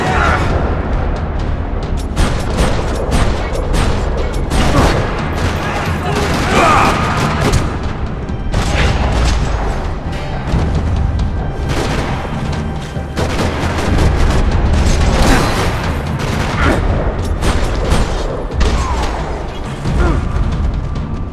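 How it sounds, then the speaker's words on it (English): Sustained gunfire rattles through a parking lot in the video game Max Payne 3: dense bursts of shots and booming impacts pile up continuously, loud and chaotic, with occasional voices shouting underneath. "Another parking lot rattling with gunfire."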